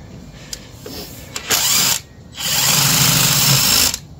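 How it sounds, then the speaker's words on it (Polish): Power tool driving a bolt while stripping its thread during engine teardown on a lifted vehicle, heard as two close, loud sustained whirring bursts with a grinding buzz, separated by a short pause. "jak słyszysz tak, to trrrt, to nie jest dobrze, bo to gwint niszczysz"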